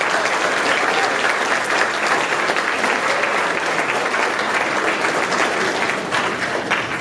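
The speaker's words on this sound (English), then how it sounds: "let's hear a huge applause for outgoing President Angelique Bonanno." Sustained applause from an awards ceremony audience honoring an outgoing president, a dense, even wash of many hands clapping that carries steadily at full strength for several seconds.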